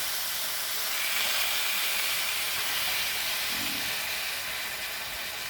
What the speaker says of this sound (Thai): เอาหมูใส่ลงไปนะครับ หมูใส่ลงไปกระทะที่เราหั่นไว้เมื่อครู่นะครับ